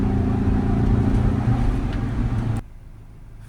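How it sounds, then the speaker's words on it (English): A Ford Ranger 2.0 BiTurbo with a P2002 diesel particulate filter fault accelerates hard toward 60-70 mph, a steady loud engine drone heard from inside that cuts off abruptly near the end. "if we do a full acceleration with the vehicle just up to say 60-70 mile an hour"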